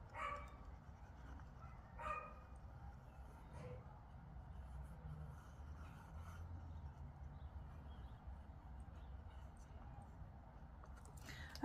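Small dogs barking indoors in a house, a few faint, distant yaps early on against a quiet room background.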